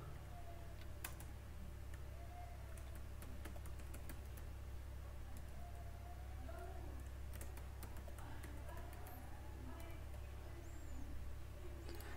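Keys clatter in short, irregular bursts on a computer keyboard, faint over a low steady hum, with no speech.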